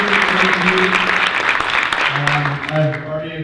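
Steady applause from a standing meeting audience carries on loudly, and a voice begins speaking over it as the clapping thins toward the end.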